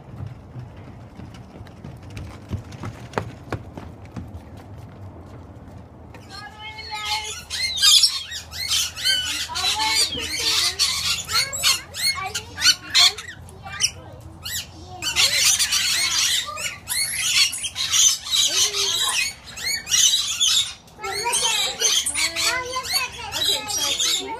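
Parrots at the Parrot Playhouse on the Turtle Bay boardwalk in Redding, California, squawk loudly and densely in overlapping shrill calls, starting after a quieter stretch with talking and continuing close by.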